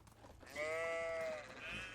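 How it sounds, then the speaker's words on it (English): Sheep bleat in the farming game Medieval Dynasty, one drawn-out wavering bleat close by, with a second quieter bleat starting at the end over faint background. "Wow, so many sheep."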